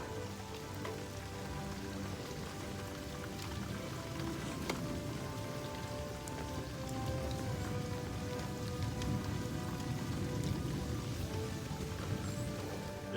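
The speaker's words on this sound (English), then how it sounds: "There's some pretty incredible rainfall going on right now." Heavy rainstorm with dense, steady rainfall drumming on surfaces, continuous and loud throughout, growing slightly heavier toward the end, with no voices.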